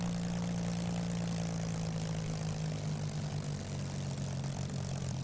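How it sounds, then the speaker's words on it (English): A Spitfire's propeller engine runs after start-up in a flight simulator, a loud steady low drone with a constant hum and no voices. "The whole plane rocks when you start her up as well."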